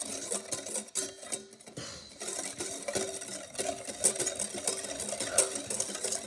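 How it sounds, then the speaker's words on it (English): A whisk beats a pudding mixture for worms in dirt, scraping and tapping rapidly against the bowl in a steady, close, fairly quiet rhythm that runs throughout. "you really whisk it till it feels really hard"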